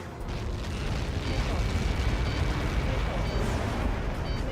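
A massive impact explosion in the video game Ace Combat 7 rolls out as a dense, sustained roar and rumble, loud and continuous with faint overlaid game tones.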